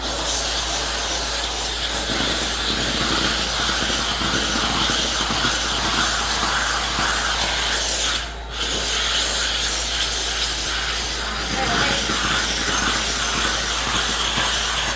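Vapor steamer hissing steadily on tile grout during a floor cleaning job, a loud continuous broadband hiss close by that dips briefly midway, with no talk.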